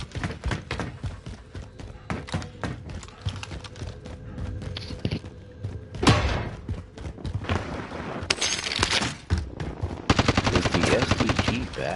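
Video game gunfire, rapid bursts of automatic shots and single cracks going off repeatedly over about twelve seconds, loud and close with scattered impacts and a dense burst near the end, no voices over it.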